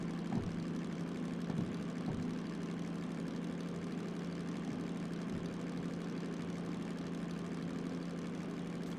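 A diesel locomotive engine in a video game, held at high RPM, gives off a steady, low, droning hum with faint knocking ticks, heard quietly and without interruption.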